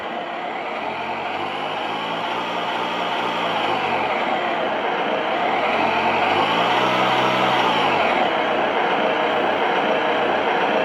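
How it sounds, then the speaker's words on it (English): A synthetic engine drone from a model submarine's sound module hums steadily, its pitch rising and falling twice with the throttle as if revving, loud and continuous without any speech. "So now we've got engine sounds, and it's proportional to throttle."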